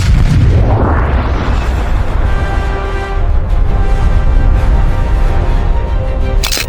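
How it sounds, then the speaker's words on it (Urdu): A huge, frightening explosion erupts with a deep, loud boom, then a long, heavy rumble that rolls on for several seconds. "اور پھر ایک خوفناک دھماکہ۔"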